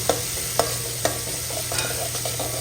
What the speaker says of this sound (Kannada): ರುಬ್ಕೊಂಡಿರುವಂತಹ ಕರಿಬೇವಿನ ಪೇಸ್ಟ್ ಕೂಡ ಹಾಕೋತಾ ಇದ್ದೀನಿ ಇದನ್ನು ಕ್ಲೀನಾಗಿ ಎಣ್ಣೆಯಲ್ಲಿ ಹುರ್ಕೋಬೇಕು